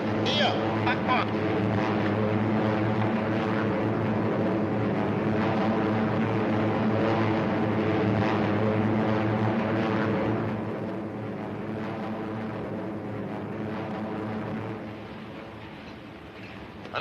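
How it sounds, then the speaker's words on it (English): Propeller aircraft drone steadily from a ship at sea off Norway in a 1943 wartime setting, a continuous loud engine hum with voices over it. "Unidentified planes off the starboard bow."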